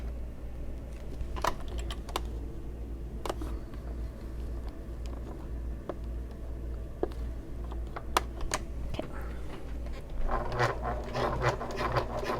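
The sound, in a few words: sewing machine stitching along a bag edge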